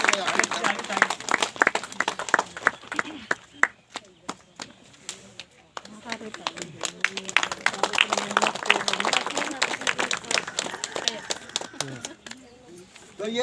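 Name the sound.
people clapping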